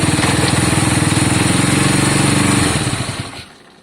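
A Honda CB200 motorcycle engine runs at a fast, even idle, a loud close throbbing putter that falters and cuts out near the end, leaving quiet.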